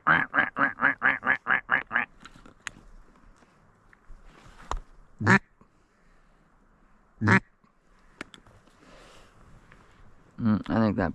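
A duck gives a quick run of repeated nasal quacks, loud and close, on a public river during a duck hunt; later there are scattered sharp noises and a few softer calls.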